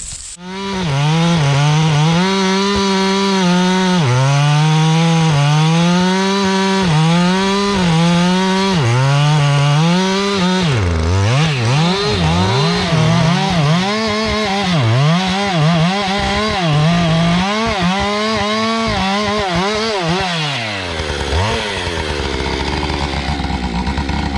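Husqvarna chainsaw with auto tune running loud and close, its engine note steady, then repeatedly dipping and surging as the revs hunt and settle, before it eases toward a lower idle at the end.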